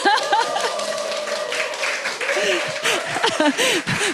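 Scattered audience clapping and a few laughs at a business opportunity meeting, mixed with lively talk and a sung tribute, the clapping moderately loud and uneven throughout.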